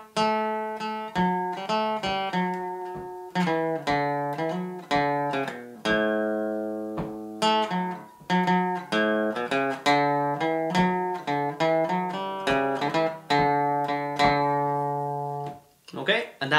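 Acoustic guitar picking the Black Velvet Band melody from tab on repeat, with steady plucked single notes and ringing open strings. The playing is close and continuous, with a brief pause near the end.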